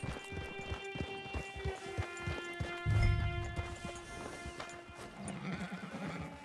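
Horse in the Red Dead Redemption 2 video game, with repeated hoof clip-clops and a whinny-like call over layered game music and ambient tones, moderately loud throughout.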